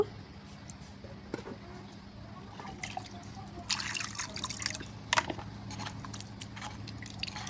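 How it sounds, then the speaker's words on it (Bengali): Cut fish pieces are washed in water, with faint drips and soft splashing, quiet and close, growing into a brief louder slosh of handling in the middle. "এখন কিন্তু আমি এই মাছগুলা ধুয়ে নিব"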